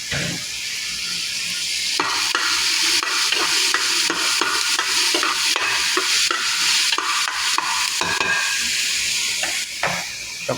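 Onions fry in hot oil for a Saudi-style rice and egg dish, a steady loud sizzle broken by repeated scraping stirs, close and alone without voices.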